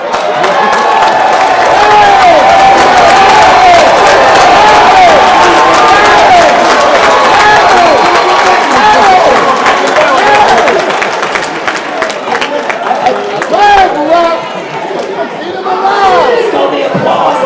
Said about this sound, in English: So the applause may be stealing your time, Raz.